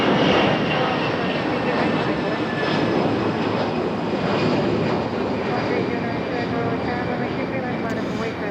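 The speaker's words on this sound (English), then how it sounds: "as we watch our Embraer E175 make its way down the runway" Embraer E175 jet taking off down the runway at Raleigh-Durham International Airport, a steady, loud engine roar that holds evenly throughout from a moderate distance.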